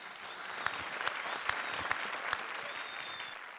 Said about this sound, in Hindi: तो एक बार जोरदार तालियां राजीव के लिए।